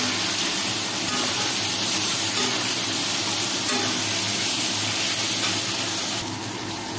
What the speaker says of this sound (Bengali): এবার এটাকে আমি একটু ভালো করে ভাজবো